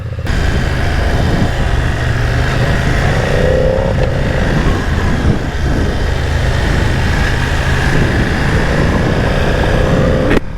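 A 2020 BMW F900R motorcycle engine running while riding, loud and continuous with a steady drone and faint shifts in pitch, wind rushing over it.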